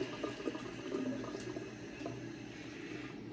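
A shaving brush is rinsed under hot running water, giving a steady close splashing and trickling flow with small bubbling gurgles throughout, no voices.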